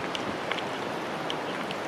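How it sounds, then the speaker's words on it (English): Steady, gentle rushing of water fills the clip, a soft continuous flow with faint scattered trickles and splashes. "A little river running through."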